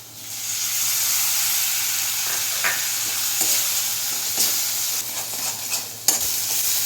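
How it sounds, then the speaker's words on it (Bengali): Spices and chopped tomato fry in a pan for a fish roe curry, giving a steady, close sizzle with scraping stir strokes throughout and a sharp tap near the end; no one speaks. "এবার সব কিছু আবার ভালো করে ভেজে নিচ্ছি। এবারে টমেটো কুচিগুলো দিয়ে দিলাম।"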